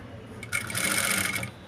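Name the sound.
sewing machine stitching piping on fabric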